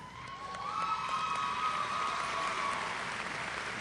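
At a 2004 graduation ceremony, an audience applauds after faculty award names are read out: a steady wash of crowd clapping that swells after the first half-second and holds, with a few scattered cheers.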